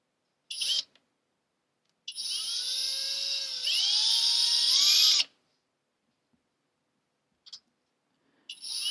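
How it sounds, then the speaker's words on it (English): Small drill boring holes in a classical guitar bridge, a high whining spin that starts, runs for about three seconds with a rising pitch step, then stops, with brief short bursts before and after in otherwise quiet surroundings. "now we can start drilling"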